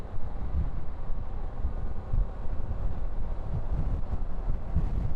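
Steady wind rush buffets a rider on a 2024 Harley-Davidson Pan America Special motorcycle cruising on a highway in a crosswind, a continuous low roar with no voices.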